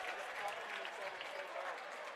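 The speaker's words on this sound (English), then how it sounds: "here comes Nate Roberts subbing for Darius, who will get a round of applause here from the Saints crowd." Applause from the Saints home crowd at a varsity high-school basketball game rings out for a substituted player, a steady, distant patter of clapping filling the gym throughout.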